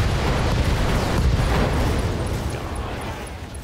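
A barrage of missile explosions in the space combat game BTA 3062, a loud continuous rumbling roar of overlapping blasts that holds steady and fades slightly toward the end.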